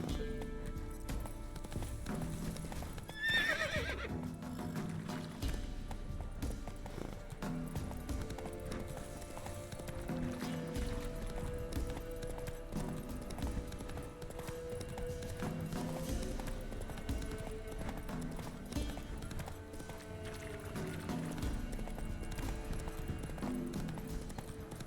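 Roach the horse in The Witcher 3 gallops with steady clip-clop hoofbeats and gives a brief neigh early on, all laid over a continuous game music bed with no break throughout.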